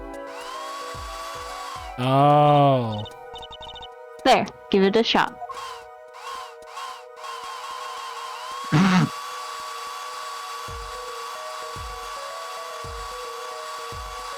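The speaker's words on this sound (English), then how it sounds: "Just press space to blast it with that dryer" A hand dryer blasting a plaster mold in the Apollo Justice game, a short whirring, wavering whoosh rising and falling, followed by brief mechanical buzzes and clicks, with someone talking in between.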